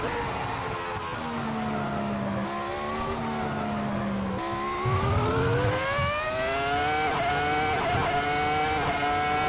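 A Ferrari F2004 Formula One car in a racing simulator revs hard at Monza, the engine climbing in a continuous high-pitched scream toward its rev limiter, loud and close with shifting harmonic tones and no talk.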